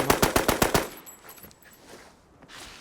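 Automatic gunfire in the shooter Arena Breakout, a fast burst of about seven sharp, loud shots in quick succession, followed by fading echo and quiet game ambience.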